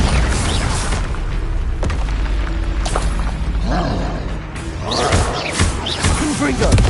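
A Bombarda explosion spell goes off in the Hogwarts Legacy video game as a series of heavy booms and crashing impacts amid combat effects and voices, swelling louder toward the end.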